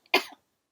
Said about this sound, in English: Don't breathe on me, it makes me cough.